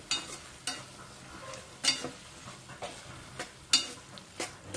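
A spoon stirs chili powder into a broad bean and tomato-onion curry in a pan, producing repeated soft scrapes and clinks at a steady rhythm over a faint sizzle, close and quiet.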